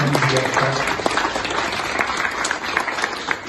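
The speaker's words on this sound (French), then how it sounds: "on peut déjà vous applaudir" An audience at a French exhibition opening applauds, a steady close patter of clapping with voices briefly audible at the start.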